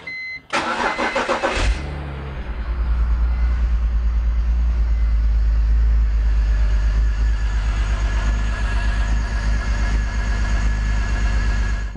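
BMW E46 engine cranking and catching with a brief starter whir, then settling into a loud, uneven idle with a rough, stumbling misfire pulsing through the steady rumble, no voices over it.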